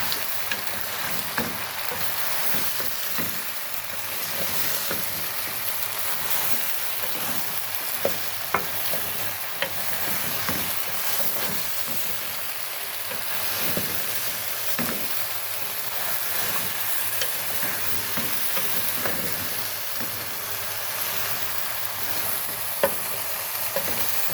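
Catfish curry with mixed vegetables sizzles and fries in a pan, a steady crackling hiss with occasional stirring clicks, close and continuous with no talking.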